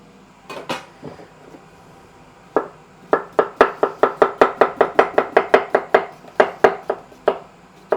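A knife chops small Persian cucumbers for a salad on a cutting board, a few scattered cuts first and then a fast, even run of crisp taps close by.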